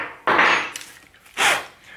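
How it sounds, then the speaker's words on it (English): An old wood block is knocked and pried out of a hole saw, giving two sharp scraping, clattering bursts close by with a quiet gap between them. "I'm just going to quickly remove this old block that's in the hole saw."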